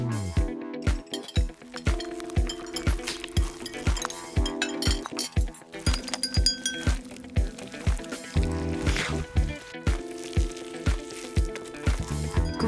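Cake batter is stirred in a bowl with a spoon or whisk, making regular clinking taps against the side over soft wet squishing, with music playing underneath.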